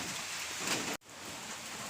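Steady heavy rain pouring down outdoors, a dense, even hiss that cuts out abruptly for an instant midway and then resumes at the same strength, with no voices.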